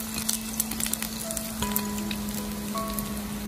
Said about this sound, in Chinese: 煎一会我们再把五花肉翻个面，一直给它煎到八面金黄